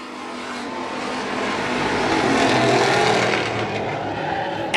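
Race cars on a racing track, a loud continuous engine roar that swells and fades slightly as the cars run, heard without talk over it.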